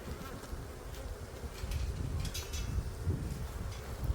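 Honeybees buzz continuously in an opened hive after wintering inside, a dense low drone holding steady and growing slightly louder toward the end, close by with no voices.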